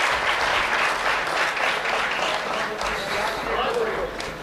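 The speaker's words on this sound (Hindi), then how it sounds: "तालियां कमजोर हैं।" Sustained audience applause for a comic poet at a live Nepali-Hindi poetry performance, a dense wash of many hands clapping steadily at fairly close range, holding level throughout and easing slightly at the end.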